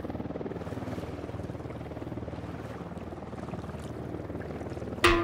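A helicopter in the Ghost Recon Wildlands video game gives a steady, fairly quiet rotor drone with a low rhythmic chop throughout, ending in a brief sharp burst of sound.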